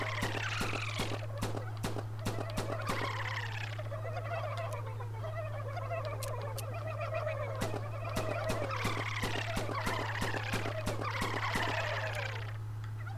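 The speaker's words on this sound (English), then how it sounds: "This world's been overrun by" Turkeys gobble repeatedly in rapid rattling bursts in the VR game Herocade on PlayStation VR, several calls overlapping over a constant low electronic hum and sharp clicking sounds.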